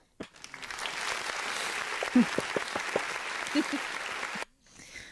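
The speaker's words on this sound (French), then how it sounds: "Je peux lui mettre les applaudissements" A burst of applause and clapping from a live show audience, steady for several seconds and then cutting off abruptly near the end.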